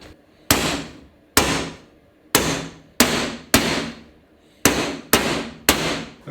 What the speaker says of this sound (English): now I gotta knock this bearing out of here